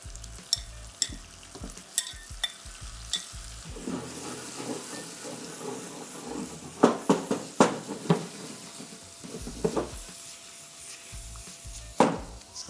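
Shrimp sautéing in garlic butter in a hot pan: a soft sizzle and hiss with scraping stir strokes and clatters, as sharp bursts of frying pop up intermittently in between.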